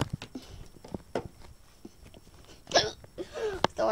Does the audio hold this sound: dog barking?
no